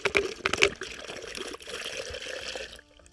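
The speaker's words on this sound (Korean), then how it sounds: "우선은 막걸리를 한 병을 여기다가 지금 부어주세요." Makgeolli rice wine poured from a 750ml bottle into a container, gurgling and splashing for a few seconds before it trails off. Close and moderately loud.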